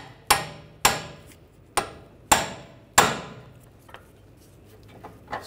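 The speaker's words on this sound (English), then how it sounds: "I'm gonna use a pickle fork." A pickle fork is hammered to separate the ball joint from the knuckle on a 2009-2010 BMW 5 Series front lower control arm, with five sharp metallic blows spaced about half a second apart, then a few lighter taps.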